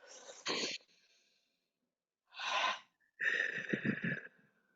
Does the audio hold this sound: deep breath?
yes